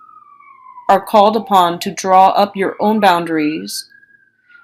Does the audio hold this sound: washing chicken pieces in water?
no